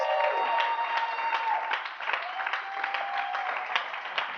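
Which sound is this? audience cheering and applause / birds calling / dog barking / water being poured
audience cheering and applause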